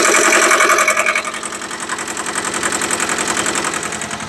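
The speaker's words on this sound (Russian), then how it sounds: "такой трактор Шибаура SD2200 работает, кстати" A Shibaura SD2200 two-cylinder tractor engine idles close by, loud at first and then settling into a steady, even chugging with a soft rhythmic knock through to the end.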